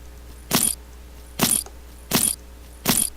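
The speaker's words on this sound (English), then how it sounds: "boots, cowboy with spurs." Cowboy boots with spurs stepping in four evenly spaced footfalls, each a short thud with a bright metallic jingle of the spur rowels, close and isolated against quiet.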